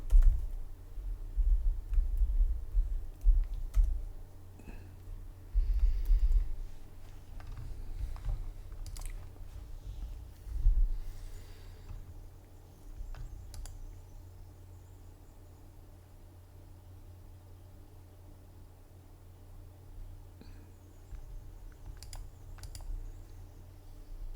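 Irregular clicking keystrokes on a computer keyboard, close and fairly quiet, in bursts that thin out over time against low background hum.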